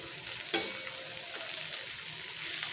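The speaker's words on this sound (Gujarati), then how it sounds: "ફરીથી આપણે બધું જ મિક્સ કરી લઈશું।" A spoon stirs onion gravy with melon seeds and green coriander stems in a hot pan, giving a soft, steady sizzle and frying hiss with a few scraping knocks.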